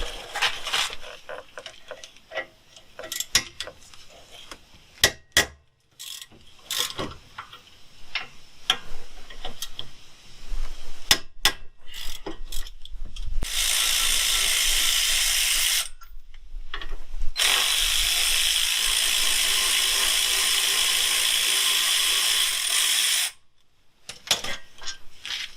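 A hand ratchet works on the 17 mm front brake caliper bracket bolts of a 2004 Honda Odyssey, giving quick runs of sharp ticking clicks, then a sustained loud whirring stretch and more clicks.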